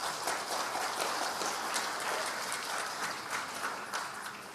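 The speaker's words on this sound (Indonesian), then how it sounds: "Nggak usah tepuk tangan" Audience applause at a business association Q&A with a presidential candidate, a steady wash of many hands clapping at moderate distance.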